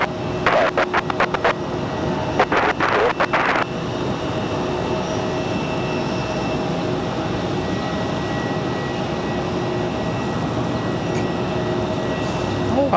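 An airplane at Raleigh Durham International Airport, with a jet engine roaring steadily and loudly throughout, overlaid by a few short clattering bursts in the first few seconds.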